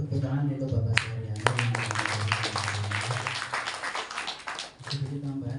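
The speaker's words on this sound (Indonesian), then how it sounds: "tepuk tangan untuk Bapak saya" A seminar audience at an Indonesian madrasah gives brief clapping for the speaker, a modest burst of hand claps mixed with a voice over a low steady hum.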